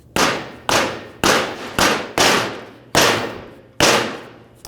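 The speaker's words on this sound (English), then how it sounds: "Take a rubber mallet or a dead blow hammer and hammer" A rubber mallet or dead blow hammer pounds a control arm mount onto a new lower control arm of a 2013-15 Ford Police Interceptor, seven loud, close, evenly spaced impacts with short decays.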